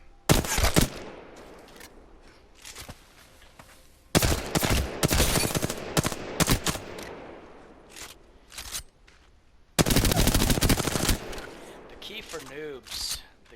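Bursts of automatic gunfire from a gun in the video game Apex Legends, three loud sustained volleys separated by quieter gaps with scattered shots and movement.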